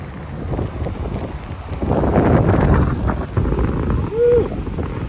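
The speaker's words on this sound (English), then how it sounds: "It's so windy." Strong seaside wind buffets the microphone in a steady roar with gusts swelling near the middle, close and loud, by waves along a pier on a windy evening walk in St. Pete.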